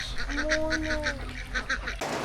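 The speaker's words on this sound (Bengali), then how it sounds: "অনেকগুলো হাঁস না বাবা? বলো তো, ডাকো তো, হাঁস হাঁস" A flock of ducks and geese in a village after rain gives a run of repeated nasal honking calls, close and fairly loud, several overlapping in quick rhythm before cutting off abruptly.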